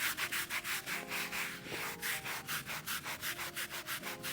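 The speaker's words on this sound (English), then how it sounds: "I'm gonna go ahead and agitate with the nylon brush, like they suggest" A nylon brush scrubs undiluted iron stain remover on a surface in quick, rhythmic back-and-forth strokes, about four per second, close and steady with no talking.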